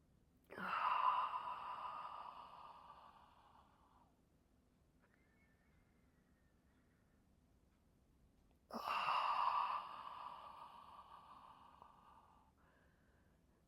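Two slow, deep breaths during a Rollness floor exercise, each a long airy exhale that fades gradually, separated by several seconds of near silence, close and soft.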